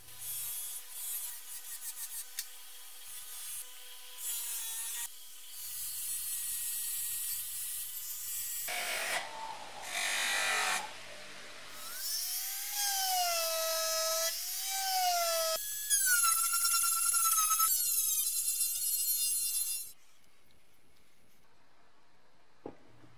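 Fine light-blue abrasive block rubbing across the surface of an 1875 army syringe during restoration, a faint series of scratchy strokes with shifting pitch, broken by brief pauses, and no talking.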